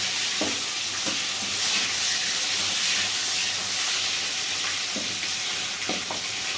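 Tomatoes fry in hot oil with black cumin, a continuous close sizzle punctuated by occasional light clinks of a stirring spoon against the pan.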